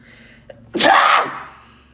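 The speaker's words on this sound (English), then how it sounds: "I have to sneeze." A single loud, close sneeze bursts out after a brief intake of breath, then fades.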